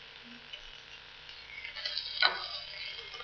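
Onions hit a hot pan and sizzle softly. The quiet hiss builds into one brief, brighter crackle near the end.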